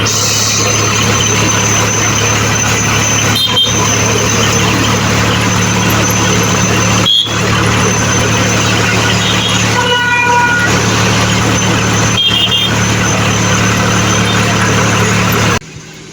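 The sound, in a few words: tractor engine running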